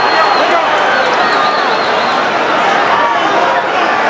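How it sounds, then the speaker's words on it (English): Boxing arena crowd during a fight, a dense, sustained roar of cheering and shouting that fills the space, with a commentator's voice running over it. "Listen to the crowd."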